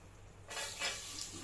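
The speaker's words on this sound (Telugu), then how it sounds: "బాగా వేడెక్కిన తర్వాత మసాలా దినుసులు వేసి వేపుకోవాలి" Whole spices drop into hot oil for tomato rice and start a soft, close sizzle that rises abruptly after a quiet moment and then keeps crackling faintly.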